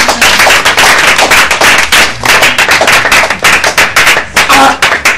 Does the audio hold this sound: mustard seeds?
no